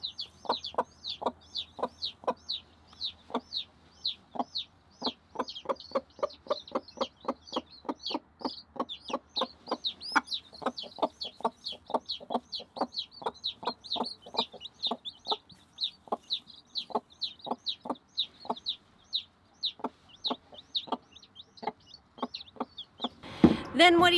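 Mother hen and her chicks clucking close by, a long run of rhythmic, evenly spaced clucks with high chick peeps above, ending in a brief louder rustle.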